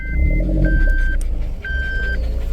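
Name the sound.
Force Traveler van engine exhaust note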